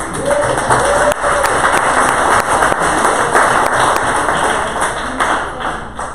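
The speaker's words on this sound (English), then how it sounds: "a round of applause" A sales meeting audience claps, and the dense, steady applause fills the room with sharp individual claps standing out from the wash for several seconds.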